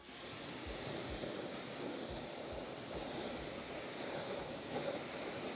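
Water sprays over a car wheel around the lug nuts, a steady close hiss of rinsing that runs without a break.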